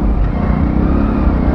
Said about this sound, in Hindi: बहुत ज़्यादा ट्रैफिक जाम है